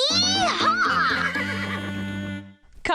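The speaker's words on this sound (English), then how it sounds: "Perched safely on the horse, Caillou felt like a cowboy as Uncle Felix led him and Harry around the field" Cartoon horse neighing on a farm field during a pony ride, a loud, drawn-out whinny with quavering pitch lasting over two seconds, followed by a brief gap and a short burst of another sound.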